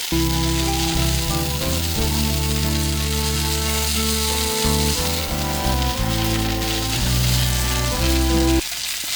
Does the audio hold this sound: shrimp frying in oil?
yes